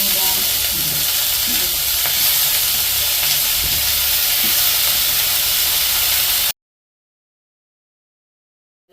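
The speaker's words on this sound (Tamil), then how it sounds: "இப்போ சூப்பரான முறையில் வெங்காயம் வந்து தாளிச்சேன்" Onions being tempered in a hot pan produce a dense, continuous hiss and sizzle that holds steady for several seconds, then cuts to silence.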